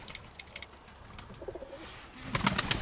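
A pigeon coos softly in the mid-distance, a few low murmuring calls among faint outdoor noise, with brief higher chirps near the end; no one speaks.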